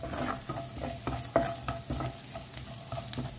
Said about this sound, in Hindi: तो लहसुन को ना मैंने 1 मिनट के लिए भून लिया है।